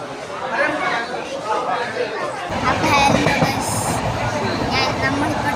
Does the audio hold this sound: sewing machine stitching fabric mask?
no